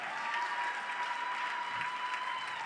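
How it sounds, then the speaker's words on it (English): An audience at the 2023 Uplifting Athletes Young Investigator Draft event applauds, with dense, steady clapping that fills the room evenly from start to finish. "Can I get a round of applause, please?"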